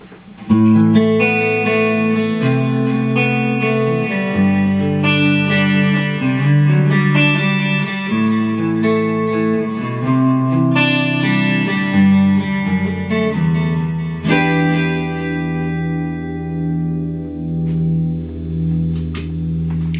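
An electric guitar played with the neck pickup, light chorus and a little delay through a Two Rock Classic Reverb Signature amp, with loud, sustained blues-rock notes and chords ringing out with echoing repeats, alone with no talking.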